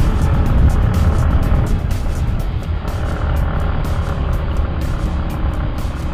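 A motorcycle revs up and pulls away along a village road in Lebak, Banten, its engine a steady close drone that holds loud throughout with wind buffeting.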